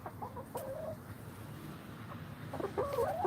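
Young backyard hens cluck and warble nearby, a few short throaty calls early on and a louder run of rising clucks at the end, over quiet outdoor background noise.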